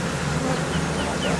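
Dense, steady buzzing of many bees swarming at a honeycomb hive inside a tree in Houston Heights, a close continuous drone with faint background noise.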